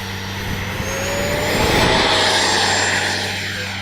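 An FMS Integral 80mm electric ducted-fan RC jet with takeoff flaps spools up into a loud, steady high-pitched whine with rushing air that swells as it takes off, close and with no talking.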